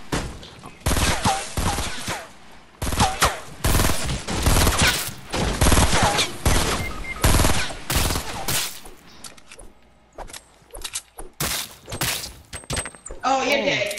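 Heavy gunfire in Fortnite, loud repeated blasts and rapid volleys packed close together with short gaps, while players talk excitedly over the shooting.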